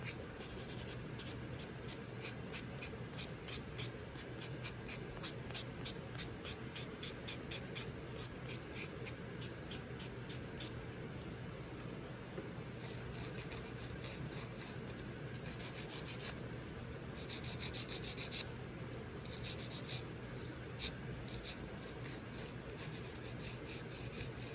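An acrylic nail tip being buffed and filed, producing a faint, continuous scratchy rasping with quick repetitive strokes, close and quiet, with no voices.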